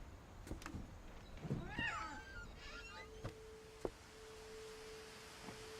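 A short, faint meow-like cry from a cat in the video game What Remains of Edith Finch, followed by quiet electronic tones and a soft click over a low background hum.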